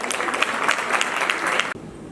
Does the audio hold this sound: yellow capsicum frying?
no